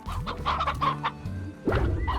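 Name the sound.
chickens clucking in a video game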